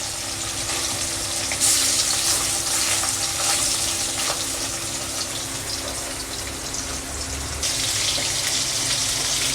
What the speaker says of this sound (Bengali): মাছটা দিয়ে আমার একবারে হবে না, আমি দুবার দিয়ে ভেজে নেব মাছটা